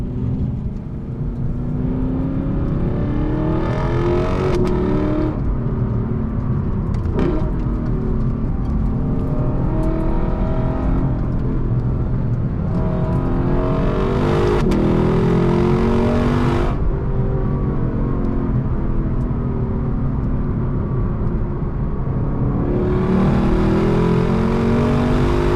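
A 2025 Lexus LC 500 V8 revs hard to high rpm in manual mode, climbing through gears with sharp cracks at each shift and aggressive downshift blips, loud and continuous from inside the cabin.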